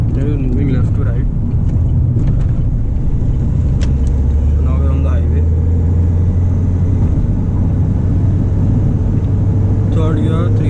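A Mahindra XUV 500 SUV engine pulls hard in third gear from around 3000 to 4000 RPM, a loud steady cabin rumble that rises in pitch, with someone talking over it.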